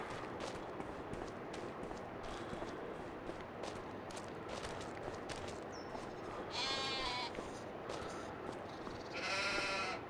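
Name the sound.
goats bleating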